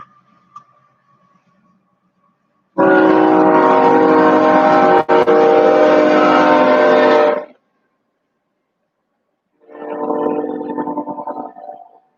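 Two loud blasts of a passing train's horn in Nebraska, a long sustained one and then a shorter, softer one after a pause, over faint background rumble.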